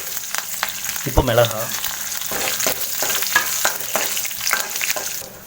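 Curry leaves and chili sizzle and crackle in hot oil for lemon rice, a steady loud frying hiss with spattering pops and occasional stirring scrapes, with a brief voice speaking over it.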